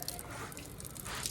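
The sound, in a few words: watering plants with a hose pipe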